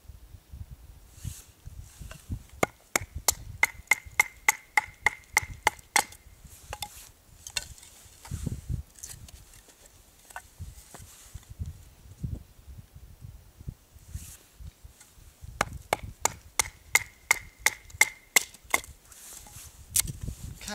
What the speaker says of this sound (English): so that was some pine that we just split there